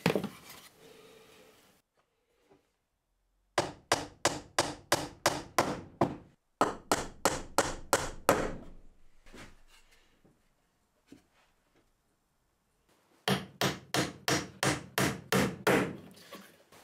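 Hammering nails into wooden crate slats, loud close rhythmic bursts of sharp blows, several in quick succession, separated by quiet pauses.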